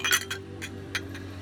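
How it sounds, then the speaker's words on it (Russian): Wine glasses clink together in a toast at a graffiti camp, a few light bright taps spread over a moment above a steady low background hum, with no talking. "прикоснитесь этими бокалами"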